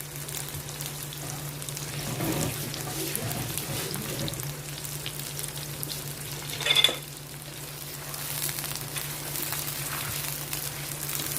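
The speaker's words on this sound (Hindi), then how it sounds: "तेज आंच पे इस वक्त हम इसको फ्राई करेंगे" Chicken sizzles in a karahi over a high flame, a continuous crackling fry with a steady low hum beneath, a brief louder clatter of stirring near the middle, then the even sizzle resumes.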